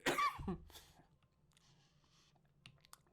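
A single close, sharp cough bursts out at the start, followed by quiet room tone with faint clicks.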